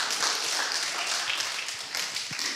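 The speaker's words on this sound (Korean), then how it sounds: "박수." A church congregation at an evening revival service breaks into applause, a dense, steady wash of many hands clapping that stays loud and even from start to finish.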